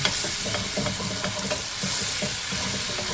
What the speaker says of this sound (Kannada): ಕರಿಬೇವಿನ ಸೊಪ್ಪು ಚಟಪಟ ಆದಮೇಲೆ ನಾವು ಮಾಡ್ಕೊಂಡಿರೋ ಕೆಂಪು ಖಾರನ ಹಾಕೋಣ